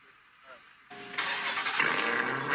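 A car engine cranks and catches around the one-second mark, then runs loudly and roughly, close by.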